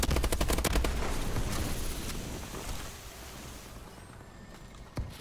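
Video-game gunfire in a hard-point match: a dense opening burst of rapid automatic shots that thins into scattered echoing rounds, with a single sharp shot near the end.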